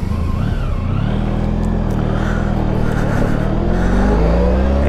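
Honda Pan European ST1100 motorcycle pulling away from a junction, a loud, close engine with a steady low drone that climbs in pitch as it accelerates, continuous throughout with wind rush above.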